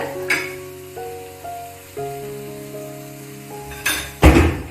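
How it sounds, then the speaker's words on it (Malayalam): Kashmiri chili powder sautés on a low flame for dates pickle, a soft steady sizzle with faint tonal hum and a few clinks, then louder scraping stirs near the end, close up with no voices. "ലോ ഫ്ലെയിമിൽ വെച്ച് ഒന്ന് നന്നായി ഇത് അതിന്റെ പച്ചമണമൊക്കെ മാറണം, അതുവരെ വഴറ്റി കൊടുക്കുക"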